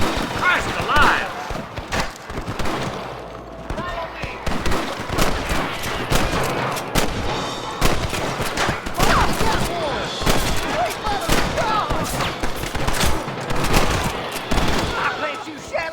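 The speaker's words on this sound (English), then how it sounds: "Gun them down!" Gunfire in the Western video game Red Dead Redemption during a shootout with rustler guards: rapid, loud, overlapping shots crackle almost nonstop, with voices shouting between the bursts.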